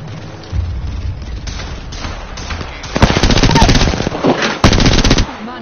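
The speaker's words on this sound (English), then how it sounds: "Firing a spark bullet." Automatic weapon fire in the video game Apex Legends: loud rapid bursts of shots, the densest stretch in the second half, over game effects and faint voice lines.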